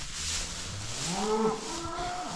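A cow moos close by near her newborn calf on a farm, one long, rising low call that bends upward and holds before tailing off, with no talk over it.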